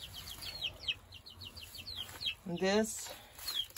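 A Silkie hen clucks in soft repeated chirps near a nest in a chicken yard, with one louder squawk in the middle, while a person talks quietly over the sounds.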